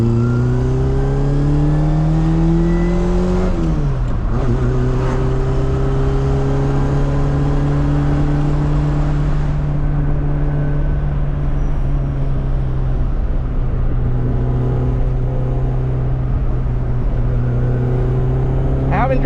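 A Toyota AE86 accelerates along back roads, its engine note rising through the gears with a brief dip at a shift, then settling into a steady cruising drone heard from inside the car.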